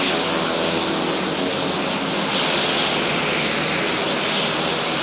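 A steady, loud propeller-engine drone holds throughout, the hum of a nearby small airplane taxiing along the runway at low power at Lukla Airport, Nepal, with no voices.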